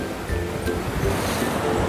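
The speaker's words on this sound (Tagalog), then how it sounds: "hintay pa tayo ng mas malakas na yung ampas ng alon, dito sa mga batuan" Ocean waves surge and crash against rocks beside a floating temple, a steady loud roar of churning surf with wind buffeting the microphone throughout.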